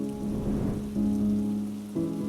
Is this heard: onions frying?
no